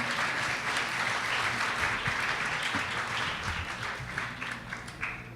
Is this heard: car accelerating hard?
no